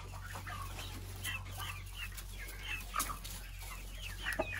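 Chickens on a farm cluck softly and repeatedly over a constant low hum, with a few sharper clucks standing out.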